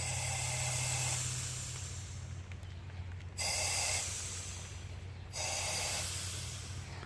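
A steady boost leak hisses at the throttle body gasket of a turbo K24 engine in an EP3 while the system pressurises. It is a quiet, continuous airy hiss over a low engine hum, and it swells louder twice for a few seconds.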